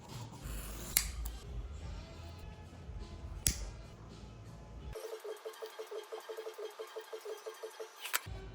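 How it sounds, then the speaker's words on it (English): Scissors cutting through canvas fabric meant for waxing, close-up crisp snips and rustling followed by a run of rhythmic repeated cutting strokes. "we're going to cut out the fabric"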